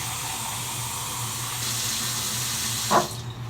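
Liquid pours steadily into a pot for a gravy mix, a continuous close trickling wash that swells briefly near the end with a splash, no voices.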